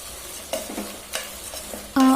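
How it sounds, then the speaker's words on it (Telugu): Soaked rice is lightly fried and stirred in ghee with onions, giving soft scraping stirs and a low sizzle, ending in a sharp, loud clatter near the close. "ఆ రైస్ని కూడా లైట్గా ఫ్రై చేసుకుందామండి"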